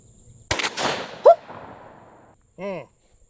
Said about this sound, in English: I want to see him shooting the super long magnum that he had earlier.